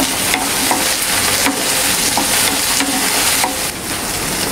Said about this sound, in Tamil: இது கூட ஒரு மீடியம் சைஸ் தக்காளியை பெருசாக கட் பண்ணி அதையும் சேர்த்து நல்லா வதக்கிக்கோங்க